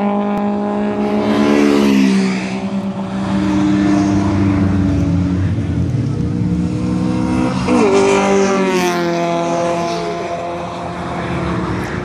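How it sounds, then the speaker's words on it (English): Car passes with steady engine drone and tire roar, pitch sweeping as it goes by, then another pass builds and fades; close and loud, with a little talk mixed in. "I think the thing makes more tire noise than engine noise."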